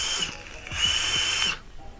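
A Vaporesso Luxe Nano vape drawn with its airflow fully open gives a steady, fairly loud rushing hiss lasting about a second and a half, with faint mechanical clicks underneath, then stops abruptly.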